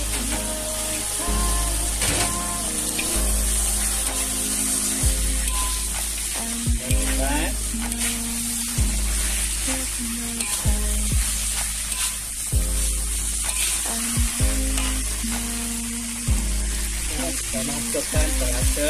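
Noodles for mee mamak hit a hot pan and fry with a loud, steady sizzle, broken by scraping stirs and occasional clanks of the utensil against the pan.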